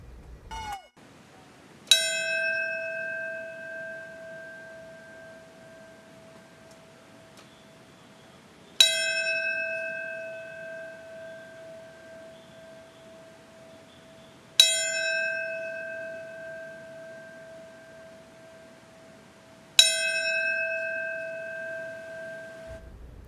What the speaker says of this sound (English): A police officer rang a bell 4 times, signifying the 4 attacks.